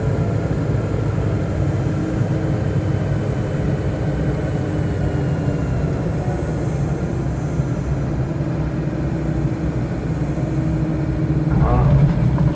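Airplane touching down and rolling out in Microsoft Flight Simulator, a steady mid-pitched engine drone that holds at an even level throughout, with someone talking over it.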